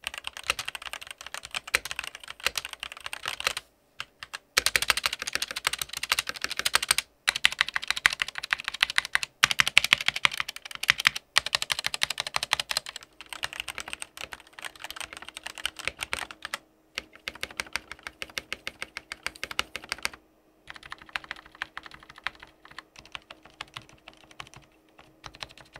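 Rapid clacky keystrokes on a custom AZERTY mechanical keyboard (Function MiniTKL), close and crisp, typing in bursts separated by brief pauses, no voices.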